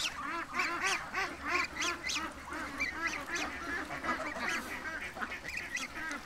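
Farmyard ducks quack and honk continuously in a noisy chorus, with many overlapping calls close by.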